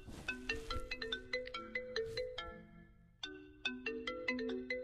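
A mobile phone ringtone plays a bright melodic tune of quick repeated electronic notes, pausing briefly and then starting its phrase again, clear and close with no voices.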